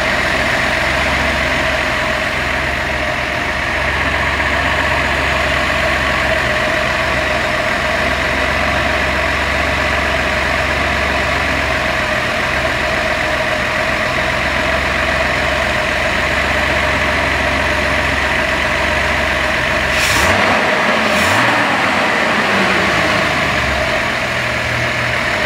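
A car engine with twin SU carburettors, freshly balanced, idles steadily and smoothly with a constant low rumble and mechanical hum, then gives a brief louder blip near the end.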